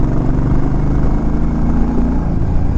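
A Suzuki Intruder Volusia cruiser motorcycle rides along with a loud, steady mid-range engine drone and road noise, continuous and close, with no voices.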